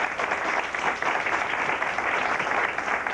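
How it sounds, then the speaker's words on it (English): Studio audience applause at a 1980s high school quiz bowl match, a dense, even burst of many hands clapping throughout. "Let's give them a nice round of applause."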